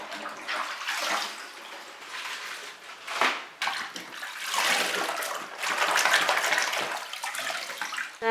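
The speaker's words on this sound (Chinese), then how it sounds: "将它简单清洗一下。" Running water splashing over mustard greens as they are rinsed, a fairly quiet, uneven gush that swells and dips as the leaves are moved under the stream.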